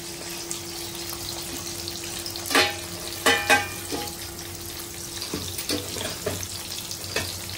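Onions and green chilies hit hot oil already fried with curry leaves in a pan, giving a constant sizzle with a few louder spattering bursts and stirring scrapes nearby.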